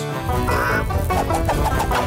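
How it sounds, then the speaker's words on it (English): Cartoon chickens clucking and squawking in a busy, excited flurry, loud and close, with several overlapping bird calls through the short burst. "Chicken on the loose!"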